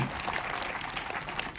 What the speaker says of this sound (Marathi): आपण एकदा सगळ्यांनी टाळ्या वाजवल्या पाहिजे असं मला वाटतं